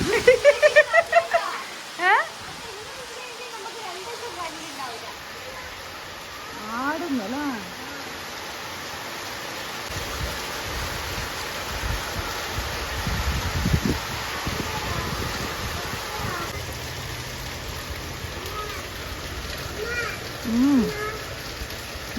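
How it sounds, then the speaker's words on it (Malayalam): Rain falls steadily outdoors as a broad, even hiss that rises and falls slightly, with voices talking now and then over it. "മഴ പെയ്യുന്നുണ്ടാ"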